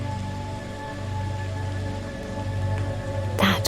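Constant rainfall patters in a dense, unbroken hiss, with a brief sharper clatter near the end; no one speaks over it.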